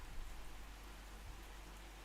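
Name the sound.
heavy rain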